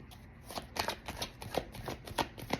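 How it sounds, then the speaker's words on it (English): Tarot cards are riffled and shuffled in quick, crisp bursts, about eight rhythmic flutters close to the microphone, quiet and without talk. "I'm going to shuffle one more time"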